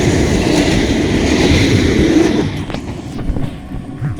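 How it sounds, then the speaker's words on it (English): A tram rumbles loudly past on its rails in an outdoor city setting, a heavy continuous roar that fades after a couple of seconds into lighter rattles and clicks. "What is that rumbling noise I hear coming from behind me? Oh, it's just a tram."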